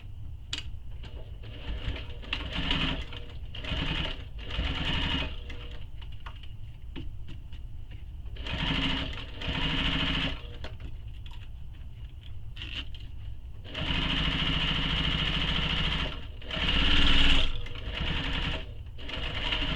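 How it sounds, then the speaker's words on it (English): Close-up sewing machine top stitching along a bag edge, running in repeated bursts of a few seconds each with short pauses between, the longest stretch near the end. "I'm going to top stitch on this edge here."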